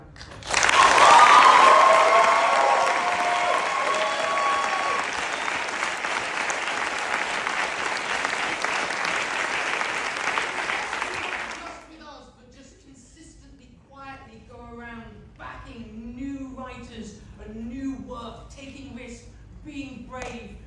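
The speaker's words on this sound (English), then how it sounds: "Our production team and producers Kenny and Mark, who deserve a huge round of applause." A large theatre audience bursts into loud, sustained applause at a celebration of a long-running stage comedy, the dense clapping holding steady for about eleven seconds before cutting off, after which a voice speaks alone.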